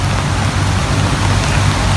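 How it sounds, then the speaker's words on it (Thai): Steady rain falls outdoors in a forest during a porcini mushroom hunt, a dense continuous hiss of drops hitting leaves and ground, close and fairly loud with no voices. "ฝนตกพี่น้อง"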